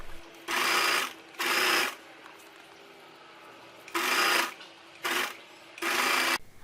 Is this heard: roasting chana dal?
no